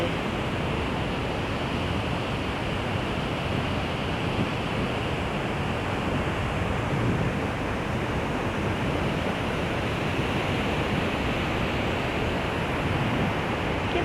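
Water of the Pa Sak River pouring over a full dam, a steady, loud, unbroken rushing roar heard close by with no pauses and no voices.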